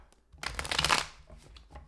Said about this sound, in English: I'm being told to shuffle.